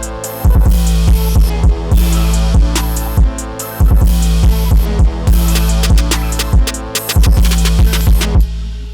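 A loud hip-hop beat driven by a deep, sustained 808 bass note under crisp hi-hats and snappy drums.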